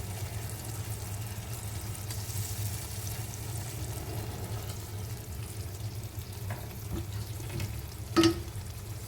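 Pieces of boal fish fry in a pan, a steady low sizzle with soft stirring, and a brief clatter of a utensil near the end.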